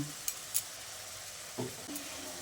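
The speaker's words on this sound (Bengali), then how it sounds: "এবার গুঁড়ো মশলাগুলো দিয়ে সব কিছুকে একসঙ্গে নেড়ে চেড়ে মিশিয়ে ভালো করে কষিয়ে নেব" Spoon stirring ground coriander, Kashmiri chili powder and salt into frying soybean curry masala in a pan, a steady low sizzle with a few soft scraping clacks.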